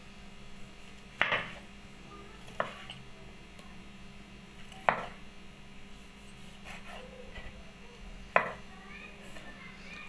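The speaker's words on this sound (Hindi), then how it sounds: "टमाटर भी इसी तरह से मैं बरीक काटूँगी" A knife chopping tomatoes finely on a board: four sparse, crisp cuts spaced a few seconds apart over a steady low electrical hum, with no talking.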